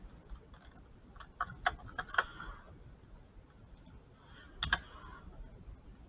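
Keys on a computer keyboard tapped to enter a number, two short bursts of quick clicks separated by a quiet pause, close but faint against a low room hiss.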